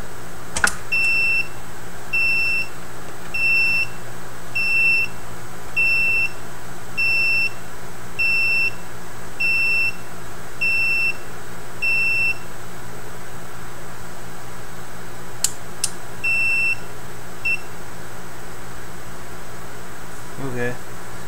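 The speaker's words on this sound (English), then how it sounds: "Ten beeps." A series of short, evenly spaced electronic beeps, about ten in a row, repeats at a steady rhythm over a faint background hum. A pair of sharp clicks interrupts partway through, and a few more beeps follow.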